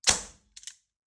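A Specna Arms Dark Matter Gen.2 AEG airsoft gun with its motor set to 39,000 RPM fires once on semi-auto: a sharp, sudden crack that quickly fades, followed by a short mechanical double click.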